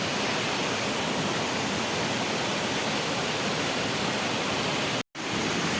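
Water falls continuously at Kateri waterfall, a dense, steady roaring hiss heard up close that cuts out for an instant near the end. No voices are heard.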